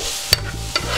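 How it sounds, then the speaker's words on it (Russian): Beets and carrots sizzle in a frying pan while a utensil stirs them, two quick scraping strokes over the steady hiss. "мы ее будем жарить вместе с морковкой буквально пару минут"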